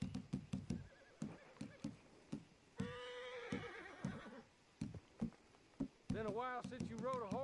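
A horse in the Red Dead video game whinnies several times amid quick clip-clop hoofbeats, the neighs loud and close with hoof strikes scattered between them.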